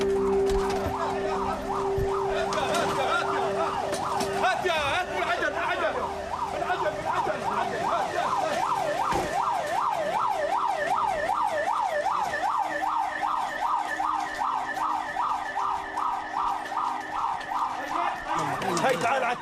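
An ambulance siren wails in a fast, rising-and-falling sweep, loud and continuous, in Gaza responding to an explosion, with voices talking underneath.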